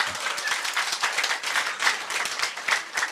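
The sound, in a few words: applause, clapping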